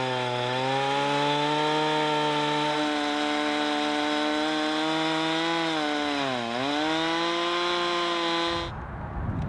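Portable chainsaw mill cutting through a big log, a loud, steady high engine whine with a brief dip in pitch partway, then cutting off abruptly near the end.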